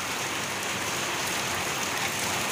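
Heavy rain in a sudden night storm, a dense steady hiss of downpour filling the whole stretch without pause, close and even, with no voices.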